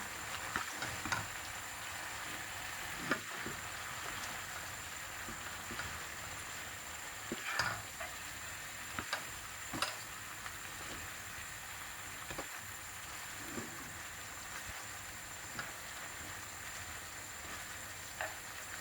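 Crispy pork stir-fries with plenty of holy basil in a hot pan, a steady soft sizzle broken by occasional scrapes and clinks of the spatula, fairly quiet and close.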